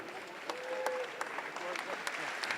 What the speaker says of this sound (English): Give yourself a gigantic round of applause.